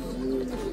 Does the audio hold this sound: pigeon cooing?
yes